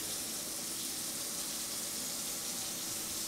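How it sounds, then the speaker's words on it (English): Water runs from a kitchen tap in an apartment, a continuous, even hiss that holds steady throughout with no voices over it. "That is the water that you hear running."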